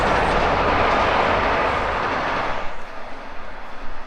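A train rolls past close by outdoors, a loud broad rumble with rail clatter that fades over the final seconds, leaving quieter, uneven rushing noise behind.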